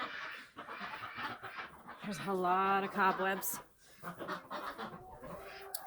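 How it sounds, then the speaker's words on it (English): Someone talks close by while chickens cluck and squawk around him inside a farm coop at night, ducks also present, one drawn-out call rising in the middle. "So the ducks and chickens right now"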